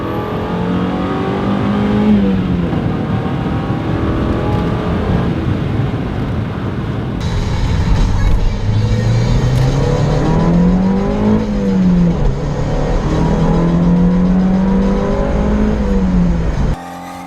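A Mazda Miata's engine revs steadily, swelling and falling through gear changes, in either a real car or Forza 4. The drone is loud and close, with wind rush throughout and no talking.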